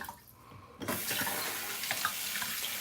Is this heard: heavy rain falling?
no